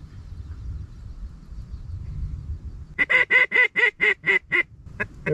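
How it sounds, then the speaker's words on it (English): Pintail ducks quack in the open air during a waterfowl hunt: a loud, close run of about nine evenly spaced calls breaks out after a few seconds of low background rumble. "fresh flighted ducks."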